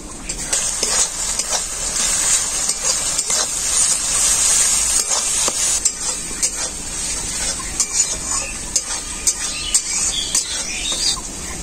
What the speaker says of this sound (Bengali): এখন আমি এর মধ্যে দিয়ে দেবো আদা আর রসুন বাটা একসাথে।